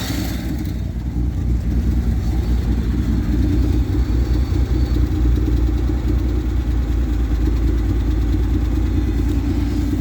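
A car engine idles steadily and fairly loud with the choke partly pushed in, a low rumbling drone with a slight uneven lope, running alone without any voices.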